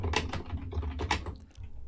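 Quick bursts of keystrokes on an old computer keyboard, loud and near, then tapering off into quieter taps over a steady low background hum.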